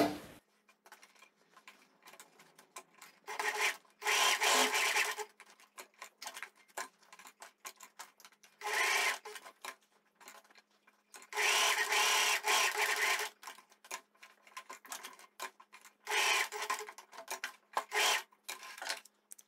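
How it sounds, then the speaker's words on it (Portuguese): Sewing machine stitching a pocket seam along a marked line on fabric for a tailored vest, fast close mechanical ticking in several bursts of a few seconds each, with short clicks and pauses between runs. "Agora é só trazer aqui para a máquina e passar uma costura em cima da marcação"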